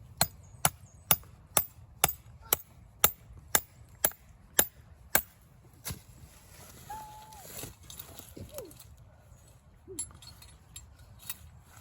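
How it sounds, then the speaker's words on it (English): A hammer drives a trap stake into the ground about a dozen times in quick, even rhythm, then stops, leaving quiet outdoor background with a few faint squeaks. "Hammer it in a little bit more."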